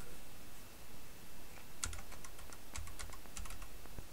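Keys pressed on a keyboard while playing the ZX Spectrum game The Crypt, a short run of light, quick clicks starting midway, near but soft over a steady background hiss.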